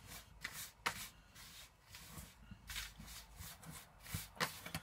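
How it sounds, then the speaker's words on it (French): Dry flours for coconut and banana fishing boilies are stirred together by hand in a bucket, making uneven rustling, scraping swishes that come close and in irregular bursts. "Il faut bien mélanger les farines entre elles."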